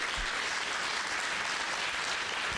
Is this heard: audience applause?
yes